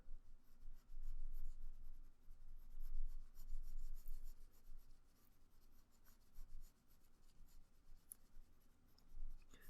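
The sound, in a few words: pencil shading dark shadow on drawing of lips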